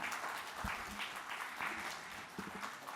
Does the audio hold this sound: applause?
yes